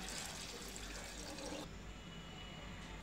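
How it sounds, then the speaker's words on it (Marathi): Water poured into a pot of rice for jeera rice makes a steady, close, rushing splash that stops abruptly midway, leaving a faint quiet hiss. "पाणी ओतते"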